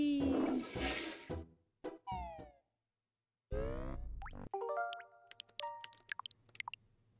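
A cartoonish toilet flush plays in the video game Banjo-Kazooie, a rushing swirl of water followed by bright twangy boing tones and a run of chiming musical blips.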